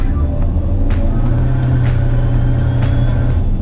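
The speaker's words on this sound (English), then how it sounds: "So now I'm gonna floor it to feel that great high torque performance" A Karma hybrid car pulls hard at full throttle in sport mode, a steady, close, low drone of engine and road rumble. Short bursts of noise break through every second or so.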